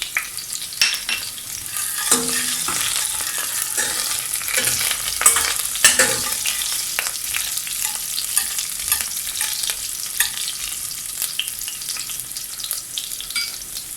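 Half a teaspoon of fenugreek seeds frying in hot oil for a curry, a steady broadband sizzle with a spoon scraping and stirring the pan throughout, close and fairly loud with no talking.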